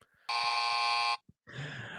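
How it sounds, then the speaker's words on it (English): Classic buzzer sounding in a steady, harsh electronic tone for just under a second, loud and alone, followed after a brief gap by a burst of rougher noise. "there's the classic buzzer"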